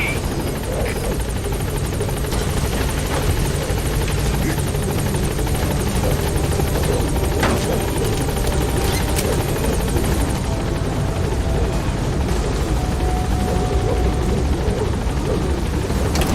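The Pequod helicopter in a video game, rotor noise loud and continuous throughout, a dense steady thrum as it gains altitude during an extraction from a landing zone.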